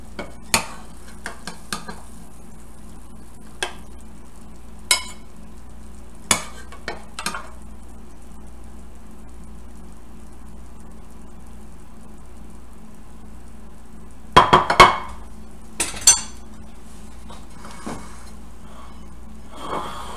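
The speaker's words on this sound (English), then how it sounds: "So they're ready to be served, and you just dish it out" Meatballs and baked pasta al forno are dished out with a spoon, giving a scattering of soft scrapes and light clinks against the dish, with a brief cluster of louder knocks midway and quiet pauses between.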